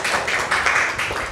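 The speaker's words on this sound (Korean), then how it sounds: "박수 한번 부탁드립니다" An audience at an arts workshop in a Daegu gallery gives a brief burst of steady applause, a dense wash of clapping that lasts only a moment.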